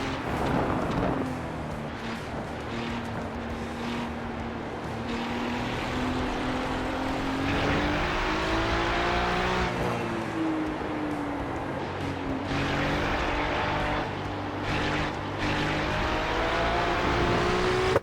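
A race car engine in a sim racing game drones steadily and loudly, its pitch rising and falling through gear changes and corners with no talk over it.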